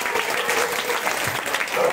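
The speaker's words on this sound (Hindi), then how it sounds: "तो इन लोगों के लिए भी बहुत जोर से ताली बजाओ।" An audience at a seven-day Bhagwat katha gathering in Noida claps loudly and continuously, a dense, sustained wash of many hands with no speech over it.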